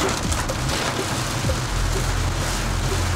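Rain drums on an Omoda E5 electric car while driving, a dense steady patter over a low road rumble, close and continuous with no talk.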